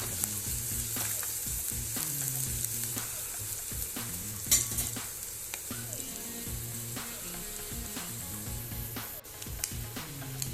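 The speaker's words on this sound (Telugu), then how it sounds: "ఇది పచ్చివాసన పోయేంత వరకు వేయించుకోవాలి." Sliced onions with ginger-garlic paste sizzle steadily in a pan for egg fried rice, a bright continuous hiss with scattered light stirring clicks and a faint hum beneath.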